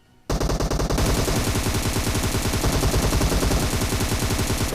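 Sustained rapid automatic gunfire in a video game, loud and continuous with a steady stuttering rhythm after a short quiet start, no voices over it.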